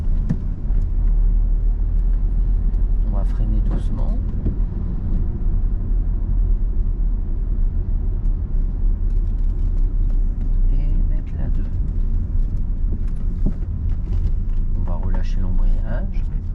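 A car engine hums and rumbles steadily during a driving lesson as the vehicle drives along and brakes gently, with a person talking over it throughout.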